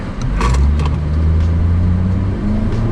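Honda HR-V with a CVT gearbox accelerating from 0 to 100 km/h on a racing circuit: a loud, close, steady engine drone heard alone, holding a sustained tone rather than rising in stepped revs.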